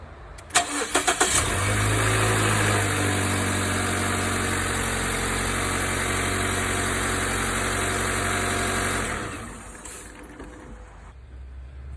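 A Mazda CX-3 engine cranks with quick stutters, catches and settles into a steady, close idle hum for several seconds before shutting off.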